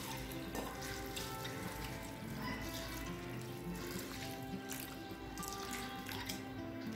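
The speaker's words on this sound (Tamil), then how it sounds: "இப்போ இதில் தேவையான அளவு தண்ணி சேர்த்துக்கலாம்." Water poured over 200 grams of flattened rice (poha) for upma, a soft steady splashing and trickling under a faint background hum.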